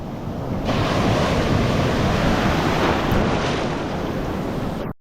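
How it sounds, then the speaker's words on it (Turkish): Steady roar of ocean surf breaking continuously at a surf spot in Costa Rica, loud and close, with wind rushing across the microphone throughout before cutting off. "Dalgalar bayağı iyi ya."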